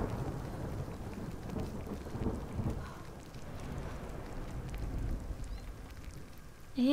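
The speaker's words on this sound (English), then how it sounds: "hopefully this thunder will let up at least somewhat" Rain drizzles steadily in a Skyrim thunderstorm while soft low thunder rumbles underneath, a continuous wash of moderate, fairly distant weather noise with no talking.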